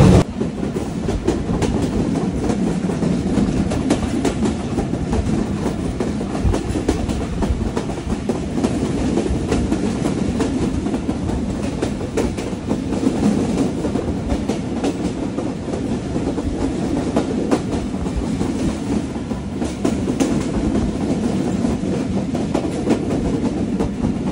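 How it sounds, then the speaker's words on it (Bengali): The Rupsha-Simanta Express on the Chilahati to Khulna line in Bangladesh runs at speed, a loud, unbroken rumble of wheels and carriages with rhythmic clickety-clack from the rails, heard up close for the whole stretch. "আর প্রচণ্ড শব্দ এই ট্রেন, প্রচণ্ড শব্দ।"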